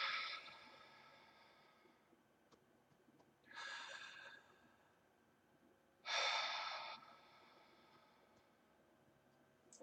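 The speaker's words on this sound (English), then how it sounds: "I'm just gonna breathe." A person breathing slowly and audibly, three separate drawn-out breaths close to the microphone with quiet pauses between them and no speech.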